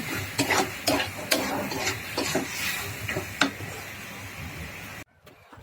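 Soft leafy greens (shak) fry in a pan with a continuous sizzle broken by close scraping and tapping stirs, then the sound cuts off into near silence for the final half second.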